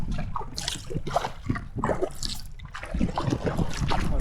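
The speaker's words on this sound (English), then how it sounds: "Rapids." Rushing rapids on the Yukon River surround a solo kayak, with continuous churning water, repeated close splashes and dribbling paddle drips throughout.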